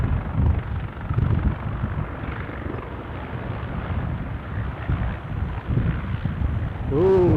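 A helicopter flying near Aberdeen Airport, a steady loud rotor and engine drone filling the whole stretch, with wind buffeting the microphone.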